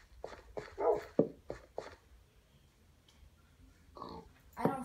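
A dog in the Minecraft video game barks and whimpers in a few short clustered bursts, fairly quiet, with a pause before two more barks near the end.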